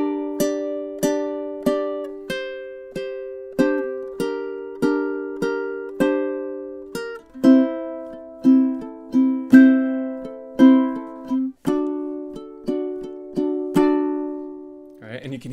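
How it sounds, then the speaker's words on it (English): Ukulele plays measures seven and eight of a song, a steady run of clear plucked and strummed chords at an even pace, close and alone with each note ringing briefly before the next. "let's go ahead and hear measures seven and eight together."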